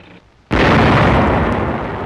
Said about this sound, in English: A tank destroyer goes into action.